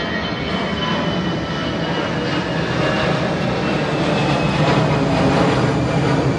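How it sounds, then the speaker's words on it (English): An airplane passing overhead above a condo in Chiang Mai, Thailand: a loud, steady broadband engine roar that holds and swells slightly throughout, heard on its own without talk. "got a nice aeroplane coming over"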